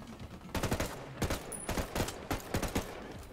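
Bursts of automatic gunfire in Ghost Recon Wildlands, several sharp, loud volleys of rapid shots in quick succession with short gaps between, close and punchy.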